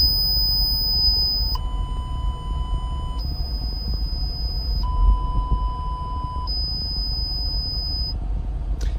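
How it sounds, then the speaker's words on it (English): Steady electronic speaker test tones from a 2017 Ford Mustang's audio system switch between pitches in a few long steps over a low rumbling background hum. "you're gonna hear this crazy sound come on. It's okay, it's just testing the speakers."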